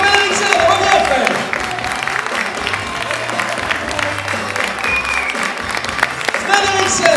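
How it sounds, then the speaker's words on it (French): A crowd at a comedy and circus cabaret show in Forges-les-Eaux keeps up sustained applause with light cheering, a dense steady roar under an announcer's voice on the microphone. "Un maximum de bruit, s'il vous plaît, pour Fred Eriksen."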